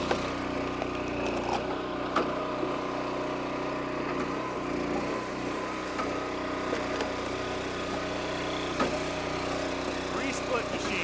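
A commercial log splitter runs steadily as it splits red oak and black walnut, its engine drone loud and continuous with occasional cracks and knocks from the wood, and voices partly heard beneath it.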